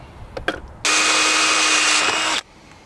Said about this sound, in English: So I'm gonna drill it out.